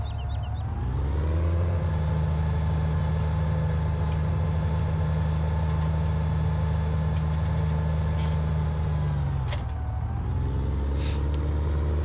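A brand new tractor in Farming Simulator 2017 runs with a steady, loud low engine drone that holds evenly, dips briefly near the end, then settles back to its constant rumble.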